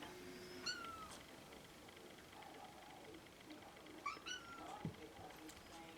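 A house cat meows indoors in a few short, faint calls, one near the start and a couple more later, against a quiet room background.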